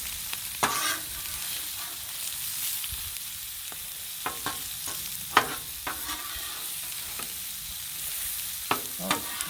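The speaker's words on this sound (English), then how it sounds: "we're getting some good sear going" Vegetables and green onions searing on a hot griddle: a continuous sizzle with intermittent scraping and stirring clicks from a spatula, close and moderately loud, no talking.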